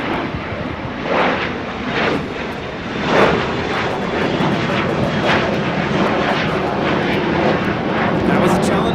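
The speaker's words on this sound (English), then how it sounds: "That was a Challenger 350 headed out to San Antonio." A Challenger 350 business jet takes off from LAX runway 25 right, a loud, sustained engine roar that swells and stays strong throughout, with a voice talking over it.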